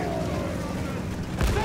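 A field gun fires in the World War I shooter Battlefield 1: one deep, heavy boom lands near the end of a rumbling, noisy battlefield bed, with voices present.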